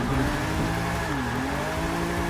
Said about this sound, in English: Because this car revs just perfectly.